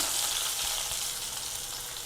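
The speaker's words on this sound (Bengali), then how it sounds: "এবার এই তেলেতেই দিয়ে দেবো এক মুঠো পেঁয়াজ" A handful of onions hits hot oil left over from frying egg and potato, giving a steady, close, loud sizzle throughout with no talking.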